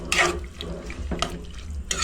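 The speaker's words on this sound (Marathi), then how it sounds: "तरी आता 2 पेले मी घालणार आहे त्यात पाणी" Water poured from a glass into a pressure cooker pot for a chana dal and val papdi amti, a brief, close, steady splashing stream with a brighter gush at the start.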